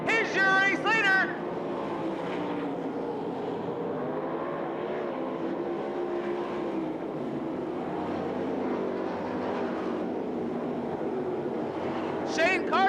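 Sprint cars racing side by side at Knoxville Raceway during the Masters Classic: a steady, droning roar of engines heard from a distance throughout, under continuous race commentary by an announcer.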